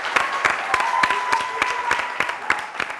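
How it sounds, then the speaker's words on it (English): Applause for the Jinja College team at a BoU secondary school quiz challenge against Apostles of Jesus Moroto, a short burst of rapid clapping from an audience that carries on steadily without cheering. "let's give a huge round of applause to JICO"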